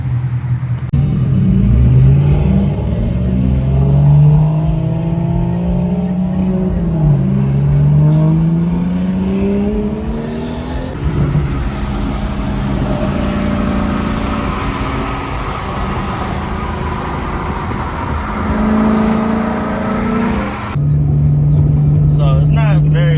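Car engine revving and droning as cars pull away together on a Houston car-meet cruise, with rising and falling rev sweeps close by, loud and continuous for the whole stretch, a brief lull near the end before revving returns.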